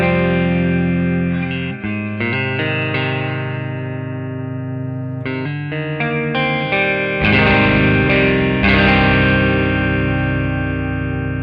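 Electric guitar on its neck pickup rings out through an amp with a warm, open tone, strummed chords and single notes sustaining, with a touch of shimmer and reverb.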